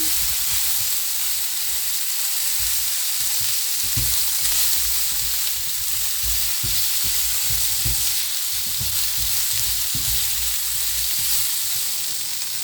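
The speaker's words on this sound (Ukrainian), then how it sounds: "ну подивимось обсмажую сосиски" Sausages frying in a pan, a steady close sizzle and hiss with light scraping stirs throughout, no voices.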